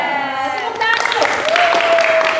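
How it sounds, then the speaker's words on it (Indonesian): Students at an Indonesian counseling competition group session clap together on cue, a brief burst of applause rising midway, with a voice heard over it. "Tepuk tangan."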